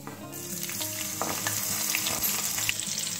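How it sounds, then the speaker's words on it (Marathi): Mustard seeds, cumin and finely cut green chilies frying in hot oil, a steady close-up sizzle with small crackles and pops, quiet and continuous with no talk. "2 हिरव्या मिरच्या मी इथे बारीक कट करून घेतलेल्या आहेत, या आपल्याला तेलात टाकायच्या आहेत"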